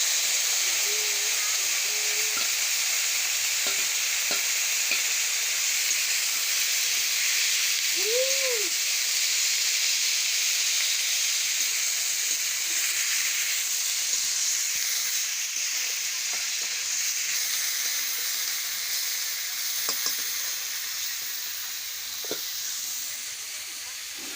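Meat dropped into a pan of fried onions sizzles and hisses steadily throughout, a loud broad frying wash with a brief squeak and occasional clicks, no talking.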